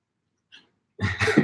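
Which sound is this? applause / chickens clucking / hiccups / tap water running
hiccups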